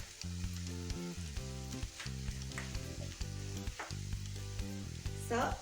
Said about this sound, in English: you just cook a bit of your beef mince like this